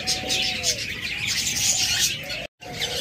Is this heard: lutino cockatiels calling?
yes